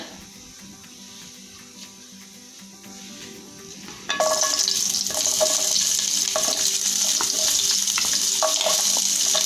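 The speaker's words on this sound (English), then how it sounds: "My oil is now hot. Now I will add chopped onion, garlic and ginger." Chopped onion, garlic and ginger hit hot oil at once, bursting into a loud, steady sizzle with stirring clatter after a quieter lead-in of faint kitchen noise.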